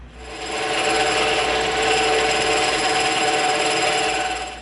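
Blade slicing around the edge of an EVA foam disc to cut a bevel, a steady close rasping scrape that runs continuously for several seconds at fairly even loudness.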